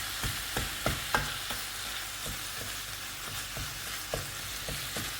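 Meat and garlic fry in a pan with 50 grams of butter, giving a steady crackling sizzle broken by sharp utensil clicks and stirring scrapes every half second or so. No one speaks.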